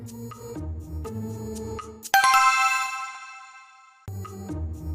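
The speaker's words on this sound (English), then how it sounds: "I forgot where I put my phone. Can you call it for me?" A mobile phone left on a table rings with a loud, bright chiming melody that cuts in abruptly, rings out and fades, with background music playing before and after.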